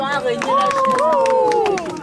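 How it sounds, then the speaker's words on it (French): An audience at an international gathering applauds, with close, dense clapping over a short stretch while a voice talks loudly above it. "Les gens de France applaudissez."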